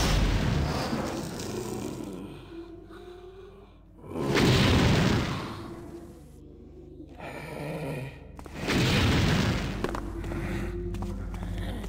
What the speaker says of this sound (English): Stop the explosions as well.